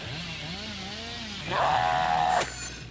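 Hillbilly's chainsaw revving in Dead by Daylight, a rising buzzing drone that swells into a louder steady whine before cutting off abruptly, heard over background game ambience.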